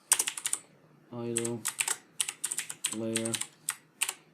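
Quick bursts of keystrokes on a computer keyboard arrive in short clusters with small pauses between them, close and clear, while someone speaks in between and over the clicking.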